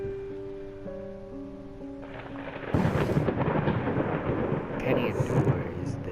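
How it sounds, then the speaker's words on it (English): Rolling thunder crashes in the horror game Layers of Fear, breaking loudly over a low, steady musical drone and continuing as a heavy, sustained rumble with rain-like hiss, with no voices. "You love all the thunder and the lightning."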